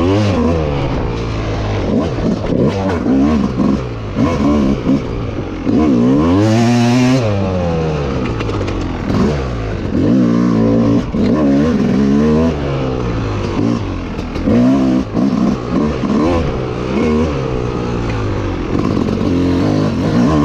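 A Yamaha YZ250X two-stroke enduro motorcycle rides a practice loop, its engine repeatedly revving up and dropping back in rapid, rising and falling bursts, loud and close throughout.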